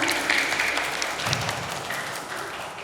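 An audience of students at an Islamic boarding school Quran memorisation exam gives a brief burst of applause that fades over a few seconds, with a faint voice at the start.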